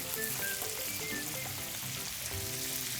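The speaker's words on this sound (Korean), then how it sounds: "고기를 골고루 뒤집어가면서 익혀주셔야 돼요." Beef for chopped steak searing in a frying pan over high heat, a dense continuous sizzle and crackle that holds at an even level throughout.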